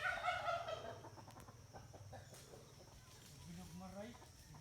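Hens in a chicken coop at a small poultry farm cluck and murmur softly in short irregular bursts, fairly quiet and close, with a voice speaking briefly at the start.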